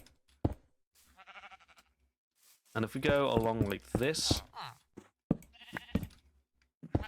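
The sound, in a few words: sheep bleating in Minecraft video game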